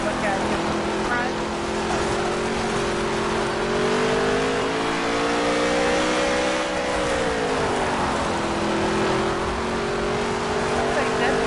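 Dirt late model race cars roar around a dirt track at an Extreme Dirt Tour event, a steady loud engine drone whose pitch rises and falls as cars pass, with a commentator talking over it.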